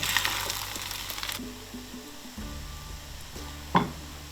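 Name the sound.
wild pork being stirred into sizzling fried rice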